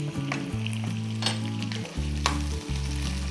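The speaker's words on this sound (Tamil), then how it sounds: "இதை நம்ம கொஞ்சம் ரோஸ்ட் பண்ணிக்கலாம்." Green chillies, garlic cloves and curry leaves roast and crackle in a hot pan for capsicum chutney, a close, steady sizzle under loud background music.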